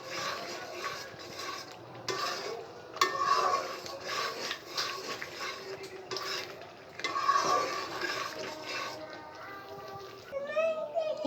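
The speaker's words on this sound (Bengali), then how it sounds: "এখন আমি এটা ভালো করে কষিয়ে নেব।" Chicken roast being stir-fried in a pan with blended almond and cashew paste, a steady scraping and stirring with soft clinks of the utensil against the pan, with faint voices in the background.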